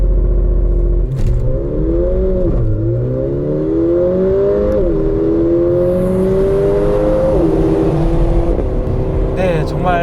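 Four-cylinder engine of a 2018 Mercedes-AMG GLA 45 4MATIC revving up through several gears, rising whine with shift dips, loud and close, with a voice talking over it near the end.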